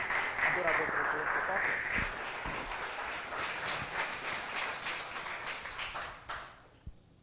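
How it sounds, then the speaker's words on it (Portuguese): Church congregation applauding: dense, steady clapping from a crowd, moderately loud and sustained for several seconds before tapering off near the end, with voices mixed in underneath. "Pode aplaudir isso para ele."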